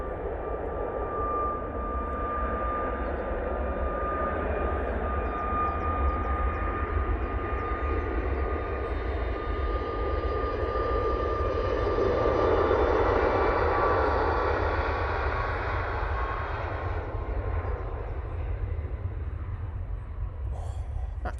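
TUI jet airliner taking off from Manchester Airport in low-visibility conditions, a steady broad engine roar that swells slightly mid-way and holds, heard from a distance with no talking.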